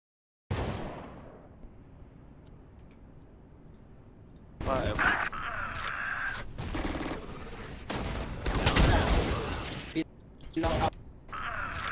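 A few gunshots and mechanical clicks in a Valorant match, set among sharp bursts and ambient game noise with quiet stretches between.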